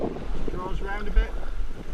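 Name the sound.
wind blowing on the river while paddling rapids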